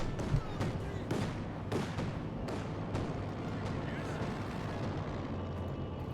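IL-2 Sturmovik air attack explosions in Company of Heroes 2, a rapid run of booming blasts and crackling impacts in the first half, then fading rumble, with a commentator talking over them throughout.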